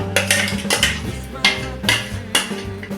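Ground carrot being stirred into milk in a metal pan, a series of clinking and scraping strikes of a utensil against the pan in an uneven rhythm, close and clear.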